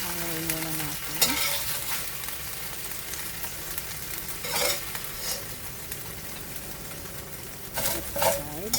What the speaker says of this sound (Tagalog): Then fry naman natin yung kabila.